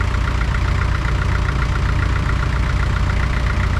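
A Farmall MD tractor engine idles roughly and unevenly on a weak battery, a loud, close, steady low chugging with a knocking pulse and no voices.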